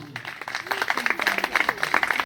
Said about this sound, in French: Des applaudissements pour eux.